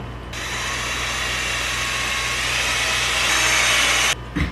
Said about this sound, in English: These I'm gonna pre-drill and put a nice little countersink on them.